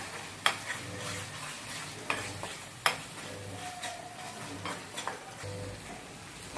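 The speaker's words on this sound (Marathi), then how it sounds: "चवीनुसार अर्धा चमचा मीठ टाकलं ते एकसारखं आपण परतून घेऊया" A spoon stirs and tosses spicy Maharashtrian shev bhaji with tomato, onion and salt in a pan, soft scraping and sizzling with a few sharp clicks of the utensil against the metal, close and steady, no talking.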